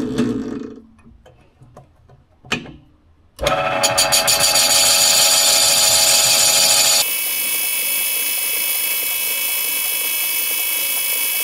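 A metal cutting pass on a BSA B50 motorcycle top end opens with faint scattered ticks, then a loud continuous machining whine starts near the middle and settles into a steady, slightly quieter drone to the end, with no talk.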